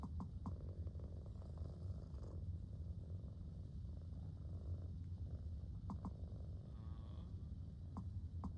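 A cat in Powerwash Simulator 2 purrs steadily and softly throughout, a continuous low rumble over faint game ambience.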